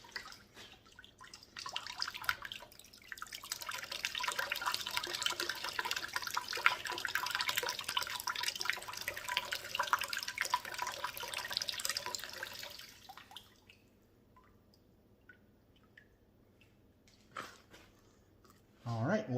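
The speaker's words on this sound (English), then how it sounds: "There's water in the barrel. We'll dump out the excess water." Excess water pours out of a Lortone rock tumbler barrel loaded with wild horse picture jasper, a loud splashing gush lasting about ten seconds that then stops, leaving quiet with a few knocks.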